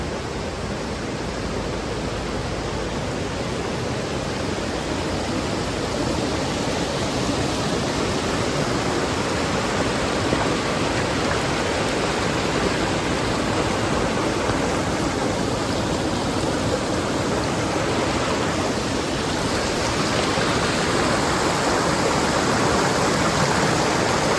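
A waterfall pours inside a cave in Colorado, a steady, loud roar of rushing water and spray that stays close and unbroken throughout.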